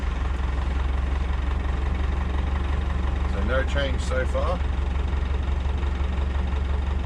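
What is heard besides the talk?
6x6 Perentie ambulance engine idling after starting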